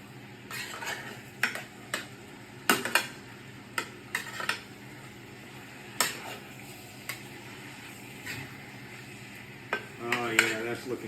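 Meat for paprikash sautés in a metal Yugoslavian mess kit, a soft sizzle under repeated sharp scrapes and clinks of a utensil stirring against the pan, irregular and close.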